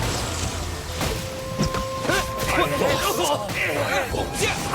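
A Thunderclap attack effect in the Genshin Impact video game, a heavy crashing impact followed by crackling, ringing electric bursts, with a character's voice heard over the effect.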